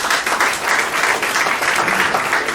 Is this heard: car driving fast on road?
no